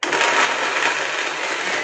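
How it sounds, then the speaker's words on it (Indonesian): A blender whirs loudly and steadily, grinding red chilies and tomato into a sambal paste, with a dense continuous roar that starts abruptly. "Ini akan kita blender."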